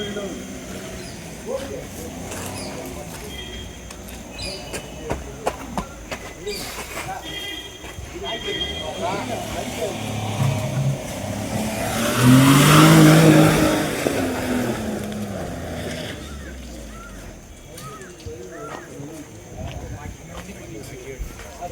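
A car stuck in mud idles steadily, its engine swelling to a louder revving surge midway before easing off, while people talk over it throughout.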